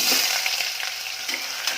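Potato pieces with cumin seeds frying in hot oil, a bright, dense sizzle with soft crackling, steady and close throughout.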